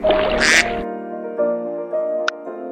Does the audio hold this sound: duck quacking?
yes